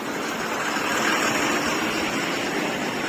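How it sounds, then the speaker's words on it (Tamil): A loaded lorry's diesel engine runs loud and close as the truck pulls away, giving a steady broadband rumble with a continuous low drone and no voices over it. "வண்டி வெற்றிகரமாக கிளம்பிருச்சுங்க."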